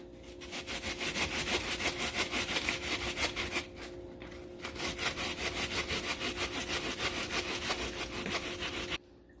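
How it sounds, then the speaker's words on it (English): A very large onion is rubbed against a grater in a steady run of quick rasping strokes, close and continuous for several seconds, with a brief pause partway through and no voices. "Grating the 1 onion. This is a large onion, a very large onion."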